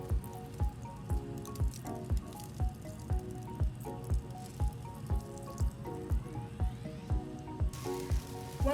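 Water from a cup trickles over a head after an FUE hair transplant, flowing from the forehead back over the grafts: steady close dripping and splattering in a regular rhythm, with no talking.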